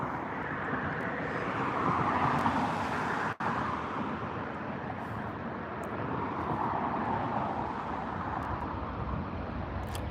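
A TUI airliner on approach to land at London Gatwick Airport, a broad, steady jet roar that swells and eases over several seconds, heard from a distance outdoors with faint background traffic.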